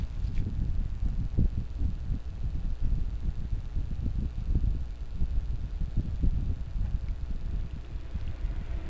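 An Epson printer purge unit pump pumping out the ink system with cleaning solution, a low, steady mechanical churning and gurgling hum that continues evenly throughout, close by, with no talking.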